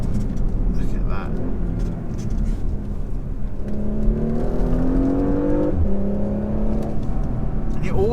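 Porsche Macan S SUV with a PDK gearbox accelerating from the cabin, its engine note climbing steadily and shifting up partway through, with a near, continuous rumble.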